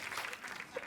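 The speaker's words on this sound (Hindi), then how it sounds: "तो एक बार जोरदार तालियां हो जाएं पूरी मिर्जा की कास्ट के लिए।" A studio audience on a Hindi TV comedy talk show applauds the cast of a show, a brief burst of clapping with faint crowd noise and a bit of voice mixed in.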